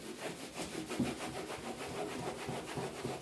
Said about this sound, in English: So we'll just keep rubbing.